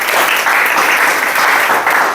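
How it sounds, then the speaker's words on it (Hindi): An audience at a network marketing talk bursts into loud, dense clapping that holds steady for about two seconds without any voices over it. "मैडम के लिए जोरदार ताली।"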